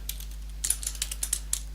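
Code being typed on a computer keyboard: a quick, irregular run of close, crisp key clicks over a steady low electrical hum, with no talking.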